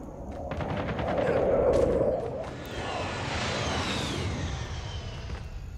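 Bursts of automatic gunfire from a Call of Duty Mobile battle royale match, rapid rattling shots at moderate distance followed by a sweeping whoosh and a softer continuing volley.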